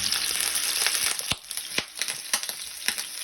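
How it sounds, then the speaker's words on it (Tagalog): Milkfish (bangus) belly frying in a pan with oil: a dense, steady crackling sizzle broken by sharp, irregular pops and spatters, close and fairly loud, with no talking. "Ngayon, ipiprito muna natin ang bangus belly."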